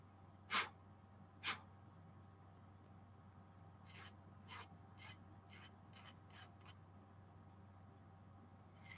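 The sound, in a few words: deburring metal edge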